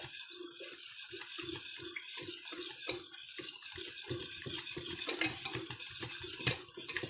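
A whisk stirs milk into a beetroot pasta sauce mixture to break up lumps, making a quick, steady rhythmic scraping and sloshing against the pan, close and fairly quiet, with no talking.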